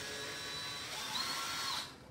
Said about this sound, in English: you can use a screwdriver, you can use a drill